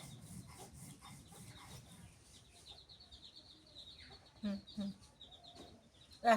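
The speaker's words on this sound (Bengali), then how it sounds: "দেখো দেখো মুরগি দেখো" Chickens cluck and call nearby at a rural home, brief bursts over soft background rustling and faint voices.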